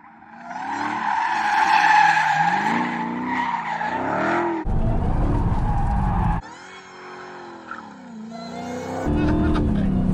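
A Dodge Demon slides with loud wavering tire squeal for several seconds, broken by heavy bursts of engine roar.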